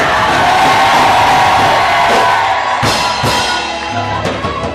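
A church congregation shouts and cheers loudly together, a dense sustained roar of voices with a few sharper yells breaking through, near and overwhelming.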